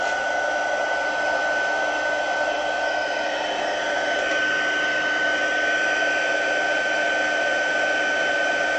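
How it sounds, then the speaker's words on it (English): A heat tool warms up before melting gilding flakes, blowing a steady, loud, continuous airy whine close by throughout. "always heat up your heat tool first"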